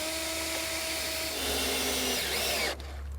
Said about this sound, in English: So we're drilling our pilot holes for our safety bolts.